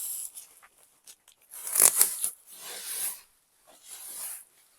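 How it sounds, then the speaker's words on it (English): A wrapped stencil package being unwrapped, with bursts of crinkling and tearing plastic at close range separated by short quiet gaps. "So I'm just going to unwrap it."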